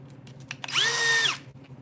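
A cordless drill set to drill mode spins up for about half a second with a rising whine, holds briefly, then winds down, close and loud, with a few clicks before and after.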